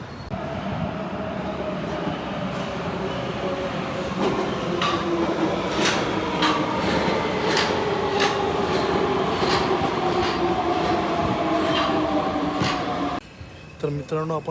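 A Budapest metro train in motion, heard from on board with a continuous rumbling roar and a rising-falling whine of the motors, plus rhythmic clicks. It cuts off near the end.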